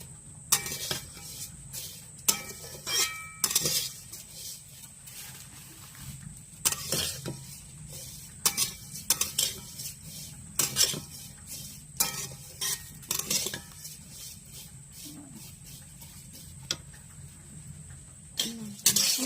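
Food fries in a pan until reddish, with a low sizzle under frequent sharp clinks and scrapes of a utensil against the pan, close by and irregular throughout.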